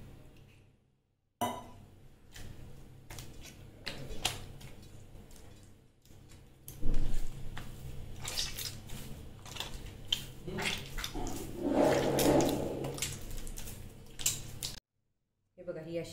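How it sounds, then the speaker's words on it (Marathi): Water added to wheat dough while it is kneaded for puranpoli, with soft wet squishes, faint drips and a few light clinks. The sounds come close but quiet and intermittent, with brief silent gaps at the start and end. "थोडं पाणी टाकू"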